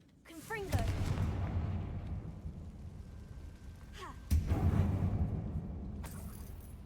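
The Confringo explosive spell in Hogwarts Legacy sounds as two heavy booming blasts a few seconds apart, each with a sharp crack and a long rumbling tail, with a brief magical whoosh before each.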